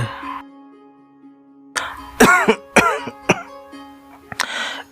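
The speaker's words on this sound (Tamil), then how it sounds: "இருமிக்கிட்டே இருக்க பாரு" Several harsh, close coughs come in a rough burst, followed by a throat clearing and a final cough after a pause.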